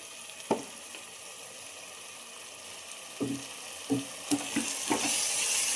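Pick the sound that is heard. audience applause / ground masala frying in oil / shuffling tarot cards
ground masala frying in oil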